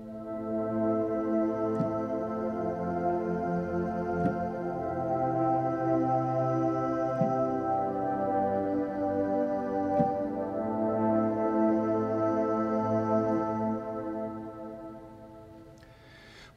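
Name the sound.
Hummer synth pad, airy shimmer, pitched up an octave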